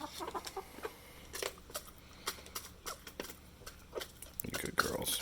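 Backyard pet hens cluck in scattered short bursts at close range while foraging for bugs, with a person talking intermittently over them.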